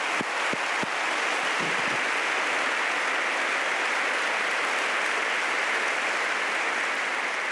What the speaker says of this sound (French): il faut vraiment pour cela un grand applaudissement.